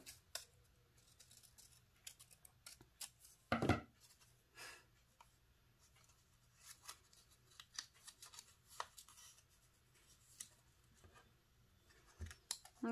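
Scissors snipping through material to shape bobblehead ears, a series of short, quiet cuts at an uneven pace with pauses between them, close up, one sharper louder snip partway through, no talking.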